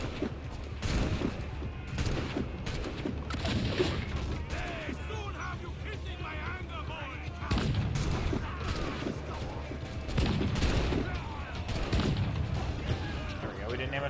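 Ship cannon and gunfire volleys in Assassin's Creed IV Black Flag as enemy ships are shot, a dense continuous barrage of booms and crackling shots with game clatter, while a player talks over it throughout.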